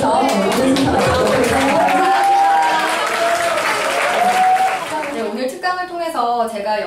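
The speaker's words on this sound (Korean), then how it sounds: "다시 한번 감사의 박수하면서 오늘 순서 마치겠습니다" Students at a lecture for an announcing program clap in thanks, a full, continuous wave of applause under a speaking voice that fades out as the talking carries on.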